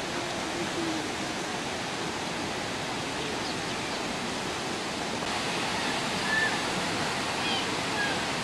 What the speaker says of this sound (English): new examples of fast-moving water